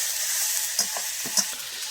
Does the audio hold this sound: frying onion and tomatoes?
yes